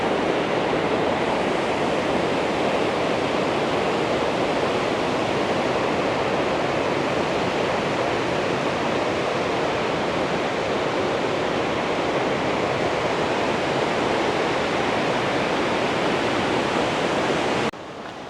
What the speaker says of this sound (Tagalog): So, andito tayo sa kabilang falls.